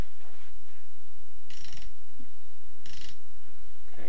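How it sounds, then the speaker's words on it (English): A Honda VFR800Fi engine with its cylinder heads removed is turned over by hand with a 14mm socket, giving a run of close mechanical ratcheting clicks with two brief, louder bursts of clattering. "Now what we'll do is we'll just get the 14mm socket again and just turn it over."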